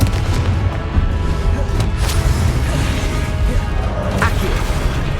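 Confringo fire spell explosions in the video game Hogwarts Legacy, a loud sequence of booms and crashing impacts within continuous combat noise.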